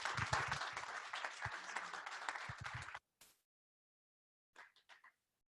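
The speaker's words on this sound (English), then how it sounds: "let's give a big round of applause for Kersey" Audience at a NAIFA Live business event applauding a guest speaker, a burst of dense clapping for about three seconds that cuts off abruptly, followed by a few faint scattered sounds.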